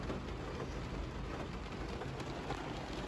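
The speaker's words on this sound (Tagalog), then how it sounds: "Yan, sobrang lakas ang ulan ngayon." Heavy rain falling in Doha, a loud, dense and continuous hiss with a low rumble beneath, steady from start to finish with no talking.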